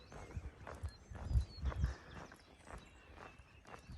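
Cows run nearby in the countryside beside a hiking trail, their hoofbeats thudding as faint, irregular low thumps that come in a few clusters.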